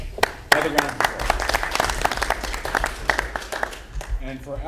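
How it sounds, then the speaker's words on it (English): A round of applause at a school board meeting, with scattered, uneven hand claps from a modest crowd in a meeting room while voices talk over it. "Another round of applause."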